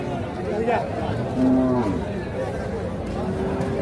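A Sahiwal-cross bull at a cattle market lets out one low moo, with other faint lowing nearby, while buyers and sellers talk over the crowd noise.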